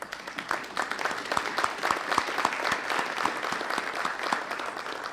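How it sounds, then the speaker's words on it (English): An audience at a Rotary Woman of the Year ceremony claps steadily for several seconds, a moderately loud, even patter of many hands without talk. "Dr. Frank McMeen, Dr. Vicki Lake, please stand up and receive our applause."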